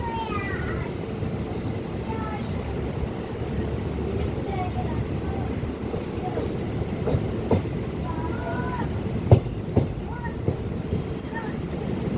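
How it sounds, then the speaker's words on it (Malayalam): A train runs along the tracks with a steady rumble and soft rhythmic clicks, while faint chirps and squeaks rise over the noise. "നമ്മുടെ ഈ ട്രെയിൻ പോകുന്ന ഒച്ച കേൾക്കാൻ എന്ത് രസമല്ലേ"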